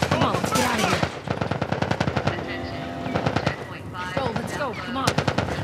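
Rapid machine-gun fire from soldiers in The Last of Us Part I rattles in dense, loud bursts almost throughout, with a brief lull midway and shouting voices mixed in.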